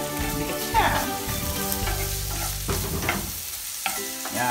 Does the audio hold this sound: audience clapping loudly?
no